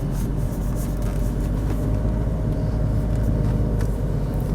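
Dense car traffic on Jalan Tun Abdul Razak, a loud, steady rumble of many engines and tyres rolling past with no letup.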